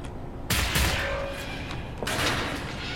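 Video game gunfire cracks out in two sharp, loud bursts about a second and a half apart, each trailing a ringing, rumbling tail, with no talk over it.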